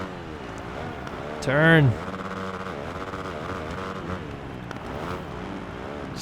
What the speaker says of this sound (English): Just can't get enough out of this stock Husqvarna.